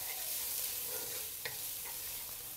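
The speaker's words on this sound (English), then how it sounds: "We'll fry until we can smell the beautiful aroma coming out from the garlic." Chopped garlic and ginger fry in a pan with a soft, steady sizzle, close and fairly quiet, with a couple of faint stirring scrapes.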